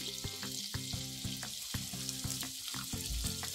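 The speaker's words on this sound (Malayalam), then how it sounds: "മീഡിയം ഫ്ലെയിമിലിട്ട് തിരിച്ചും മറിച്ചും ഇട്ട് വേണം ഫ്രൈ ചെയ്തെടുക്കേണ്ടത്" Chicken pieces fry in a pan over a medium flame, a steady loud sizzle with regular knocks and scrapes of turning, no voices.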